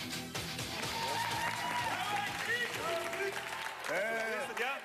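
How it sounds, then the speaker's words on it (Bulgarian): Crowd applause at a live arm-wrestling match, a steady wash of clapping running under loud overlapping voices and an announcer for the whole stretch. "Аплодисменти!"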